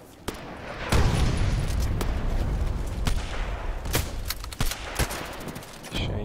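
Enemy gunfire in a first-person shooter game crackles in rapid bursts and single sharp shots, fairly loud and close, with a few heavier booms mixed into a steady rumble of battle.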